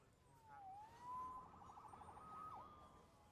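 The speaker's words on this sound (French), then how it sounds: "Sauvé par les sirènes." A police siren in the video game Spider-Man on PS4 wails in the distance, its pitch sliding down and rising again in a drawn-out, faint electronic tone.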